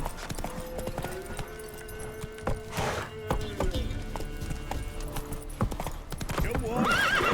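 Roach, the horse in The Witcher 3, gallops with rapid, rhythmic clip-clopping hoofbeats and a whinny near the end, over game sounds and a voice.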